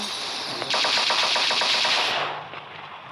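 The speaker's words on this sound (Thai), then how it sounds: "ใครยิงเนี่ย" A loud, rapid burst of automatic gunfire in a video game, a string of close shots lasting about a second and a half before a quieter tail.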